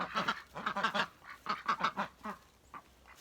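Ducks in a snowy-weather coop quack loudly and close by in a rapid, overlapping series of honking calls that thins out toward the end.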